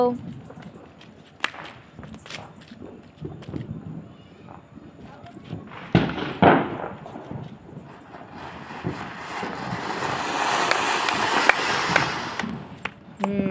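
A shambhu fountain firecracker is set off during Diwali celebrations. After scattered knocks and footsteps, a steady, fairly loud spraying hiss builds in the second half and lasts several seconds, while people talk throughout.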